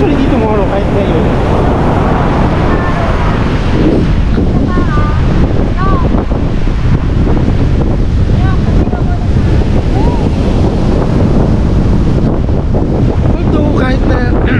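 Surf breaking on a beach at Casiguran, Aurora, a loud continuous roar of rough, unsettled sea heavily buffeted by wind on the microphone, with faint voices mixed in.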